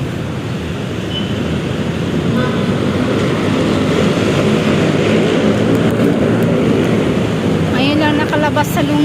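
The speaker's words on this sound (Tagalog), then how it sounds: "Yan, traffic." Heavy road traffic on a hot Monday afternoon near an overpass, a continuous dense roar of passing cars with a few brief horn toots near the end, while a person talks faintly underneath.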